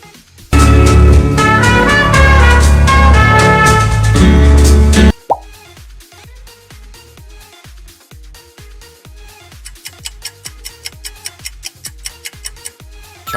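M&M's logo jingle: a loud, bright musical burst with a deep booming bass for about five seconds, then a sudden cut to quieter plucky ticking notes that build into a rhythmic run of sharp clicks toward the end.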